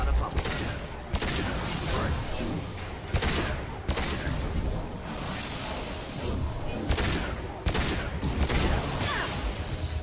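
Pistol gunfire in the sci-fi shooter Mass Effect 2, a run of sharp loud shots spaced irregularly, roughly once a second, over constant game noise, with someone talking over it.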